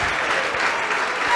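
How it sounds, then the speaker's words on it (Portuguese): Church congregation applauding, a dense continuous wash of many hands clapping at an even level, filling the room without pause. "Vamos aplaudir ao nome de Jesus."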